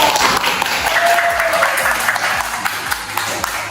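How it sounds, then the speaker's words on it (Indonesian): Classroom students applauding together in a school lesson, a dense steady burst of many hands clapping, close and loud for a few seconds. "Kita tepuk tangan dulu."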